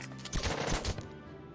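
A short, rapid burst of machine gun fire in Valkyria Chronicles, several quick shots rattling off in succession at moderate distance before cutting out.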